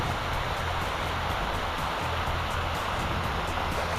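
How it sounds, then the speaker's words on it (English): Steady broadband rush of a running stream along Ireland's Wild Atlantic Way at Coomakista, constant and fairly close, with no breaks or voices over it. "I heard the sound of running water"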